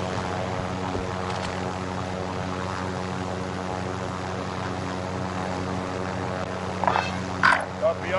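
A helicopter in Call of Duty: Modern Warfare hums with a steady rotor and engine drone. Game voices talk over it, and a few louder bursts of activity come near the end.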